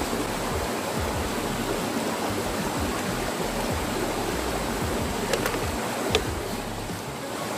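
A river rushes through the Khao Sok jungle in Thailand, a constant broadband roar of flowing water heard up close, with a couple of faint clicks on top.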